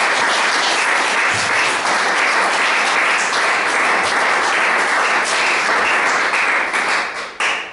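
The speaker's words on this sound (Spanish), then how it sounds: "Denle un aplauso al Señor" A church congregation claps loudly and continuously at a Spanish-language worship service, a dense, even wash of applause with no voices over it, thinning out in the final moments.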